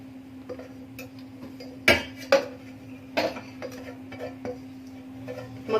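Scraping and tapping of metal on a metal tray as corn flour dough is moved into it in a home kitchen, a handful of sharp clinks standing out over a quiet steady hum.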